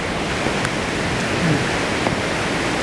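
Floodwater from a flash flood in the Colorado Rocky Mountains rushes steadily along Highway 34 near Glen Haven and Estes Park, a loud, continuous broadband roar filling the scene with no let-up and no voices.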